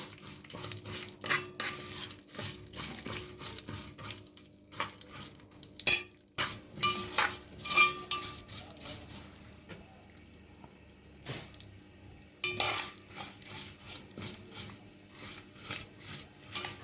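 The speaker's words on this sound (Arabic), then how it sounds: "حط الشعرية يا دوبك تخليها تصفر، ايه ما تحمرش" Vermicelli sizzles in a pot with oil while it is stirred for Egyptian yellow lentil soup. Frying crackle runs throughout, broken by repeated scraping bursts from the stirring, fairly close and with no talk.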